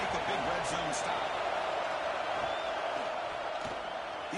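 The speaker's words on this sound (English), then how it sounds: "And here comes the noise. This crowd is trying to inspire this defense to make a big red zone stop." A dense, steady roar from a football stadium crowd at an Ohio State versus Notre Dame game, rising to urge the defense on near the goal line, with a commentator talking over it.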